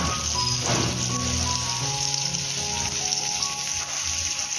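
Stuffed pomfret fish frying in a pan, a steady close sizzle with a high constant hiss running throughout, no voices.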